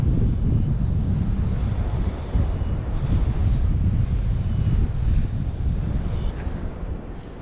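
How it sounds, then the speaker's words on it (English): Wind gusts roar steadily across a microphone outdoors on a mid-morning fishing trip, a dense low rumble that stays loud and continuous throughout with no talk. "because it's windy out"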